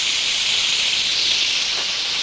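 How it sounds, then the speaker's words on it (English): Veal saltimbocca sizzles in a pan on an electric stove over lowered heat, giving a steady, close, bright hiss with no pauses and no talking. "Keep it sizzling though."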